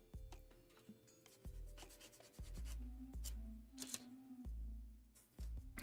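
Sanding a plastic part from a 1/24 Tamiya Nissan Skyline GT-R V Spec R34 model car kit, with short, close scraping strokes and light handling taps, quiet and uneven.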